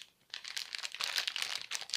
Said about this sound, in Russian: и открываем последний пакетик, Давид.